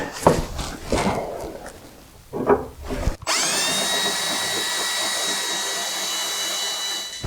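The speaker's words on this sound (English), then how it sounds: "The attempt now is to cut the outer metal, which is the piece that I don't care about, which is the old floor." A drill with a 5/16 bit spins at slow speed, cutting spot welds in the old floor metal of a Triumph TR4; after some knocking and handling, a steady, close whine runs to the end.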